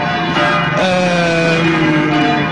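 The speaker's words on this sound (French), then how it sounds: "J'ai un peu peur qu'on entende les cloches." Church bells ring in sustained, overlapping tones that hold steady and fairly loud throughout, with no voices over them.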